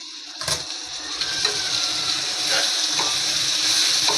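Cooking water is poured off a pan of boiled liver, splashing and running down into a sink in a home kitchen; a close, steady trickling pour with a few clinks of the pan, no one talking.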